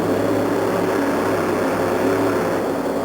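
A supercharged big block Chevrolet engine in a stretch-wheelbase, fiberglass-bodied monster truck of about 1,700 horsepower, bogging in mud inside the Minneapolis Metrodome in 1987: a steady, loud, dense roar that holds without a break for the whole stretch.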